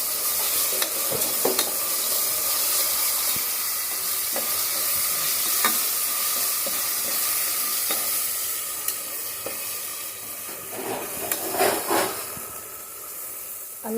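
Ginger garlic paste frying in an oil-filled pan, a steady broad sizzle and hiss with occasional spoon scrapes and clinks while being stirred, held at an even loudness throughout without any talking.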